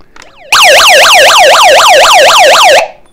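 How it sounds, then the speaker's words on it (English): A loud electronic siren wails in rapid rising-and-falling sweeps, steady and close, cutting off abruptly after a few seconds. "You've got an alarm sound."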